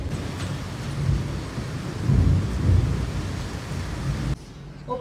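A rain and wind storm: a steady roar of rain and gusting wind with low rumbling swells, close and fairly loud, easing slightly near the end.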